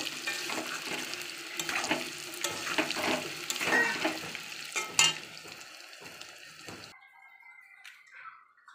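Potatoes for mutton biryani sizzle and crackle in hot oil in a pan, a steady close frying hiss that cuts off near the end, leaving faint quiet.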